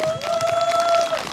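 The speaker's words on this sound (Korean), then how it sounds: "축하 박수 한번 주이소." A large crowd applauds in celebration at the 2024 Jeongwol Daeboreum full-moon festival in Daepyeong-dong, Miryang. The brief, steady clapping sits under a sustained tone from the sound system.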